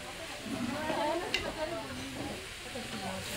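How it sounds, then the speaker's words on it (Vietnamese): Beef with shallots sizzles and is stirred in hot oil in a pan during an outdoor cook in Africa, a steady frying hiss with a few scraping stirs. "mình chiên cho thịt bò cháy xém"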